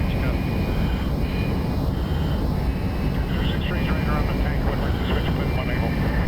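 A constant, loud jet roar fills the cockpit of an F-5E Tiger II in the Digital Combat Simulator game as it approaches an airfield, with someone talking over it.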